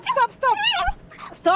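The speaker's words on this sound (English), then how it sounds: "That's my pretty dog, Matt." A pet dog whimpers and yips indoors in short high-pitched bursts, close by and fairly loud, mixed with a voice talking over it.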